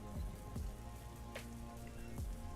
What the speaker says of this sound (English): Little rain in the back.